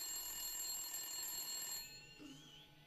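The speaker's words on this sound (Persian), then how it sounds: "تلفن." A high electronic telephone ring with steady, piercing pitch fills the first couple of seconds, then cuts off, leaving quiet room sound and a faint voice.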